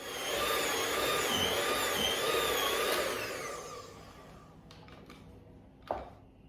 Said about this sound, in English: I'm going to whisk this now for a few minutes until it forms soft peaks